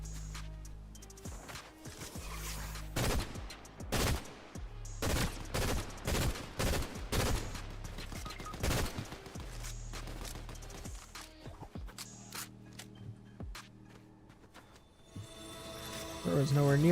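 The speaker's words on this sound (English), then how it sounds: "I think there's a guy shooting from right there." Rapid bursts of video game gunfire from an enemy shooter, with sharp repeated shots clustered in volleys, then tapering off toward the end.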